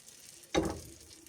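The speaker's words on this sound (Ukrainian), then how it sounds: "І смажемо з однієї і з іншої сторони." A short burst of sizzling as zucchini flatbread batter hits a hot pan, quickly fading to a quiet crackle.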